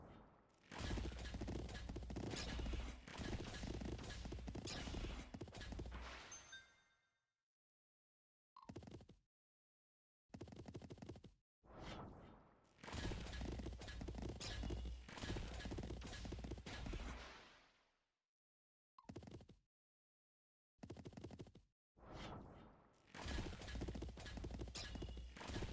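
Horses fight in battle in the game Symphony of War, with clip-clopping hooves and clashing gunfire-like bursts in loud stretches broken by sudden silent gaps.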